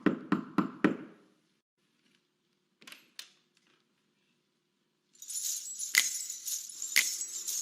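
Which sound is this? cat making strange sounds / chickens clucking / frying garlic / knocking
knocking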